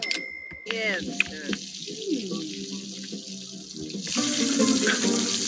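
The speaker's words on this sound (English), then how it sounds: "He's stuck in the shower right now." Running shower water in The Sims 4 video game, a steady hiss of spray that jumps louder near the end, with game voices and sound effects over it.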